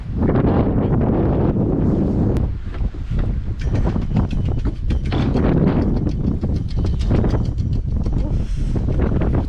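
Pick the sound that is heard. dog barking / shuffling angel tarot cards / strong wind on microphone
strong wind on microphone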